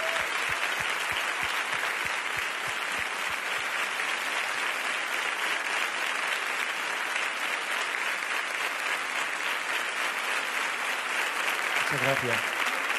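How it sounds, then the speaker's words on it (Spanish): Dense, continuous applause from a concert crowd at a performance fills the space for many seconds, with a few distinct claps early on and a brief spoken thank-you near the end. "Un fuerte aplauso"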